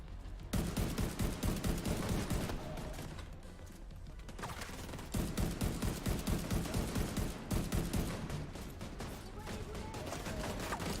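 Rapid bursts of gunfire from The Division 2 video game, loud and dense, with volleys pausing briefly around the middle before resuming, and a little speech underneath.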